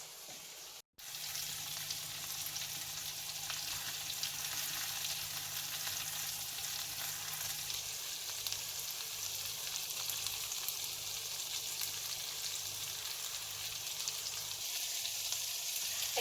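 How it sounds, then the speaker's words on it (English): Aubergines sizzle steadily in a frying pan, a continuous close crackling hiss that barely changes throughout. "my aubergines are now sizzling away"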